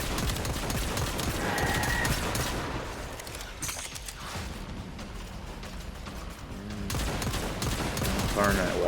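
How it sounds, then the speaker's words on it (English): A Lumen pistol fires in rapid, dense volleys in Warframe, loud continuous gunfire mixed with game effects that eases slightly midway before surging again. "My personal favorite pistol is the Lumen"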